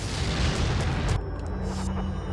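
An incendiary grenade bursts in Resident Evil 4 with a heavy, roaring boom that fills the first second, then cuts to a thinner crackling tail.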